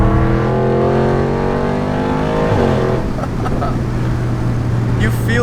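A loud, close Audi B8.5 RS5 V8 holds a steady, rich drone, then drops in pitch and settles into a lower, even hum with a faint rattle toward the end.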